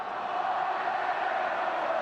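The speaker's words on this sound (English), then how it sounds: "the crowd here at the Rajamangala is letting everyone know what the score is outside the stadium" A football crowd at Rajamangala Stadium during a 2020 AFC U23 Championship match between Thailand and Australia keeps up a loud, steady roar that fills the stands.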